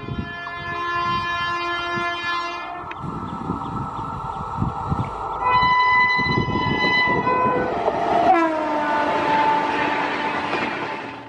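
A passenger train on the Kolkata to Puri railway rumbles past with steady wheel clatter while its horn sounds in several long blasts, loud and close throughout.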